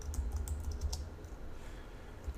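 Steady, rapid keystrokes on a computer keyboard while typing code, a dense run of light clicks with small gaps, close and fairly quiet with no talking.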